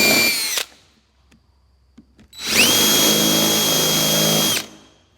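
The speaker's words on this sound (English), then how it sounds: "And then drill your hole." A power drill with a countersink bit bores into wood for a pigeon perch: a short burst at the start, then a steady, loud whine of about two seconds that cuts off sharply, with quiet gaps between.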